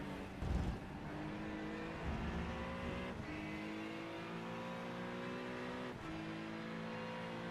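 Race cars lapping at Circuit of the Americas during an amateur racing round: a continuous engine drone with rising and falling revs through gear changes and a few brief bumps, steady and moderately distant, with no talk.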